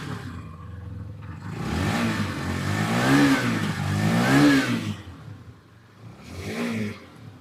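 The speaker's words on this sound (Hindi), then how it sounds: "अब हीरो एक्सट्रीम 160R 4V का इंजन साउंड आपको चेकआउट में कराता हूँ।" Hero Xtreme 160R 4V motorcycle engine blipped up through a few sharp revs, then dropping to idle before one last short rev, heard close with no voices.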